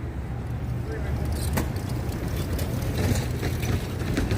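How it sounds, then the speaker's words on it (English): Street traffic near Grand Central Terminal in New York rumbles continuously, cars passing at moderate distance amid city bustle with faint clicks and clatter. "Guess they're waiting for the cars to pass or something."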